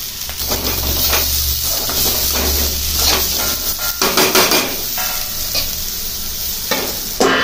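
Vegetables for a Marathi bhaji are stirred and sautéed in a hot pan, with loud continuous sizzling, repeated scraping knocks of a spatula against the metal, and a low steady hum underneath.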